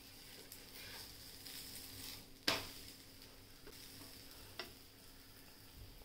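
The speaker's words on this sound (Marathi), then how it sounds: "तव्यावर टाकला आपण पहिले छान भाजून घ्यायचा" A cheese garlic paratha cooks quietly on a hot iron tawa, a faint steady sizzle broken by a sharp clatter and a softer knock as it is handled.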